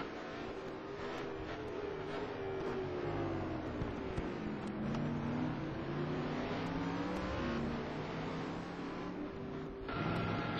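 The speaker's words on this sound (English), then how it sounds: "So Jari is leaving pits now." A race car leaves the pits on pit limiter at the Nürburgring in a racing video game, its engine droning at a steady, held pitch with gently wavering tone, loud and continuous without talk.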